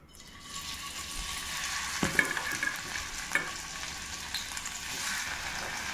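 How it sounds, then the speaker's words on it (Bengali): Paneer pieces frying in hot oil in a kadai, a steady, close sizzle with a few brief stirring scrapes and no talk. "কড়াইটা আমি তেল দিয়ে দিলাম পনিরগুলো ভাজার জন্য"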